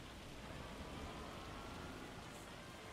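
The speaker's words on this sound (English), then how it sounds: "I'm gonna turn the hail down" Steady hail pelting down in Farming Simulator 25, a dense, even hiss of impacts with no break or rhythm, close and constant throughout, with no voices over it.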